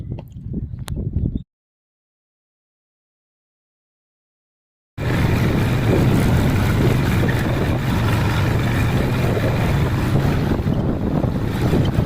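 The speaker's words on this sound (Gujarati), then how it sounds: "અત્યારે તમે જોઈ શકો છો કે ટ્રેક્ટર ચાલી રહ્યું છે" A tractor works a farm field with a steady, loud low rumble buffeted by wind. A short burst of engine noise comes first, then several seconds of silence before the running resumes.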